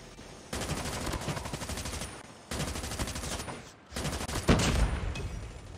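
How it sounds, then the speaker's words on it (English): Rapid automatic gunfire in the mobile shooter game Call of Duty Mobile, fired while jumping; three dense, loud bursts of a couple of seconds each separated by brief pauses, close and without talk. "I was shooting and jumping."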